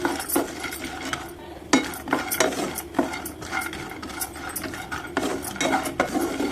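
A utensil stirs and scrapes cashews roasting in a pan, with repeated close metallic clinks and rattles over a steady dry crackle; no voices.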